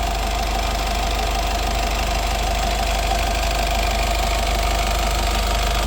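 A Honda Jazz VX 2019/20 diesel engine runs at a steady idle, a loud, constant knocking drone with a low rumble and no talk over it.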